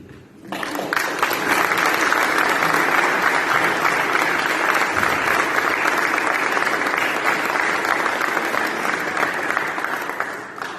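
An audience at a princely coronation ceremony bursts into loud, sustained applause that stays dense and even for about ten seconds before easing off.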